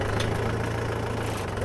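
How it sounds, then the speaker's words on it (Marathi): A tractor engine runs steadily near a raised field bund built for holding water, its low throbbing idle pulsing evenly and close throughout, with no voices. "आता आम्ही दांड्याला ट्रॅक्टर घेतोय."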